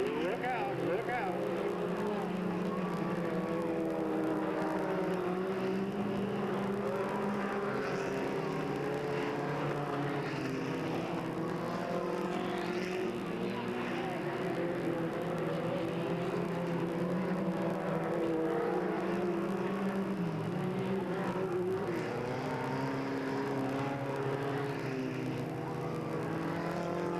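Stock cars race at Delta Speedway with a steady roar of several engines droning and shifting pitch, dense and continuous. A commentator talks over the noise.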